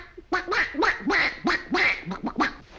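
A man imitates a duck with his voice, a run of about eight nasal quacks in quick uneven rhythm, close and fairly loud, with no other talk.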